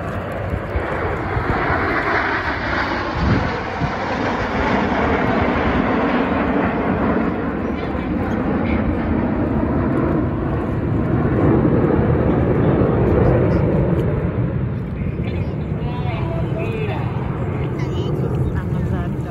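Red Arrows jet aircraft roar overhead during an air display at a Victory Day event in Tallinn, a loud continuous broad rumble swelling and fading under a commentator's voice over the public address.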